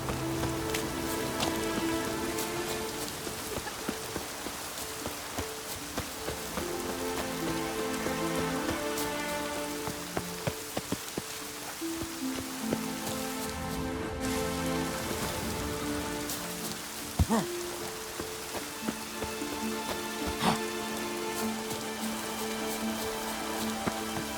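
Heavy rain pours steadily in The Witcher 3, a dense, continuous hiss of drops on surfaces that runs unbroken beneath a sustained musical score.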